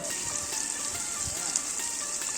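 Fish sizzling steadily in hot oil as the pieces are turned back and forth, a dense crackling hiss running throughout with occasional soft pops and faint utensil movement.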